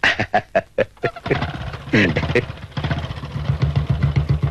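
A motorcycle starts with a burst of sharp, sputtering pulses, then settles into an uneven, rumbling idle close by.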